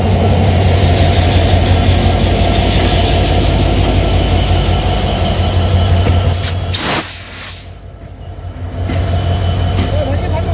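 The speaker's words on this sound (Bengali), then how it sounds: "নপাড়া ছেড়ে যাচ্ছে জাহানাবাদ এক্সপ্রেস প্রথম ট্রিপ নিয়ে" Jahanabad Express leaving Noapara station on its inaugural trip, a loud, close, steady rumble of wheels and carriages rolling past, dipping briefly before the heavy roar resumes.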